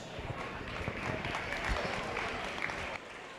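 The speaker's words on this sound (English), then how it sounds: "If you would, give him all a nice round of applause." Applause at a 2024 beef cattle show after the market steer class, thin and distant in a large arena, with scattered claps, possible hoof noise and a voice over it.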